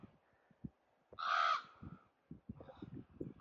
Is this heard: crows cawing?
yes